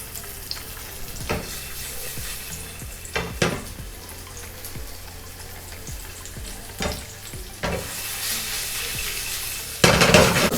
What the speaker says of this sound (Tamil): ஆயில் சூடாகிடுச்சு. நம்ம இப்போ வந்து டோஃபு இதில் ஆட் பண்ண போகிறோம்.